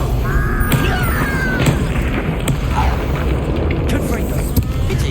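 A Confringo fire spell bursts in Hogwarts Legacy amid dense, rumbling combat booms that stay loud throughout, with sharp cracks of spell impacts layered over a continuous roar.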